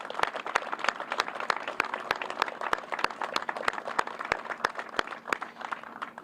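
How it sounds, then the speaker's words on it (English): An outdoor crowd at a jobs announcement event in Bridgeport gives a round of applause, a steady patter of many hands clapping at moderate distance, fairly faint and sustained throughout. "Give them a round of applause"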